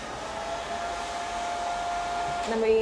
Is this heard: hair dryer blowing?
yes